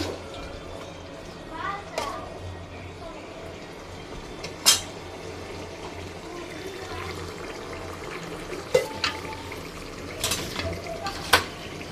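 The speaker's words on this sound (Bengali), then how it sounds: "চুই জলে দেওয়ার পরে একটু হালকা নাড়াচাড়া করে নেবো" Chui stems are stirred in water in a cooking pot in a Bangladeshi village kitchen, with soft sloshing and a few sharp clinks and scrapes against the pot over a steady background hiss.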